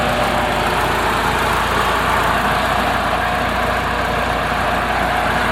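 A 2001 Mitsubishi Lancer Evolution 7 GSR with an aftermarket aluminium radiator idles close by, giving a loud, steady, unbroken engine rumble with no change in pitch.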